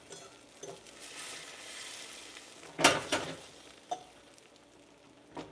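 A bacon omelet cooks over medium heat in a Darto carbon steel pan with a soft, faint sizzle, broken by a sharp clattering flip and several brief scraping knocks of utensil on metal.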